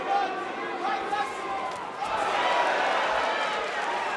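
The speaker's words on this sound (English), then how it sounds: "Crowd getting impatient." Restless arena crowd at a UFC Africa featherweight title fight, a broad steady roar of murmuring voices that swells slightly louder partway through, with scattered claps and shouts blending into the din.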